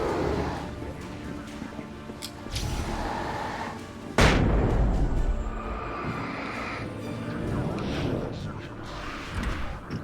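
A flashbang grenade detonates in the video game Alan Wake: one sudden, loud, close blast partway through, set amid game ambience and a person talking before and after.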